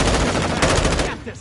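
A new video game shotgun fires in a quick burst of loud, close blasts for about a second, then trails off.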